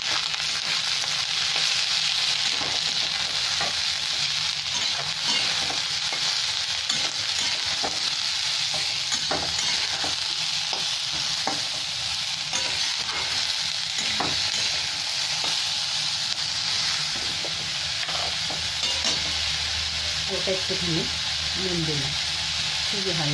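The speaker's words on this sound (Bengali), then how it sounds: "আমি পেঁয়াজের সাথে শিমলা মির্চটা ভেজে নেব আর মাশরুমটাও ভেজে নেব" Onion, capsicum and mushroom fry together in a pan for chowmein, making a steady, loud sizzle throughout with repeated clinks and scrapes of a spatula stirring; a voice speaks briefly near the end.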